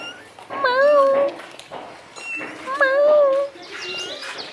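A cat in a home in Marrakech gives two drawn-out, rising-and-falling meows a couple of seconds apart, loud and close, with soft background sounds in between.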